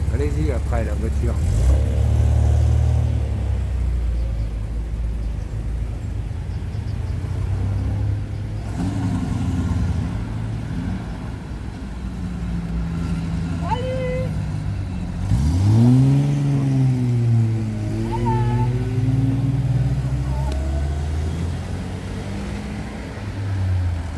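A vintage Peugeot 403 driving past at a classic vehicle gathering, its engine rumbling and revving as it approaches and passes, mid-distance and steady, with people talking nearby.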